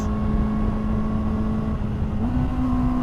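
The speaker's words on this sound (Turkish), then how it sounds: "her gaz kolu açtığımda arkadaki çıkan egzozun sesi o kadar çok fazla çıkıyor ki" A Kawasaki ZX4RR motorcycle fitted with an Akrapovic exhaust drones steadily at a high idle with a brief rise in pitch near the end, heard under constant wind and road noise.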